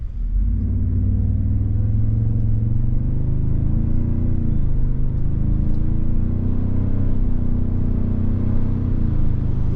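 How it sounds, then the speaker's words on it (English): A 2024 Toyota Sequoia Capstone with a new engine and 10-speed automatic accelerates on the road, a loud, steady low engine rumble heard from inside the cabin, rising slightly as it pulls without a break. "This 10-speed automatic just fires off."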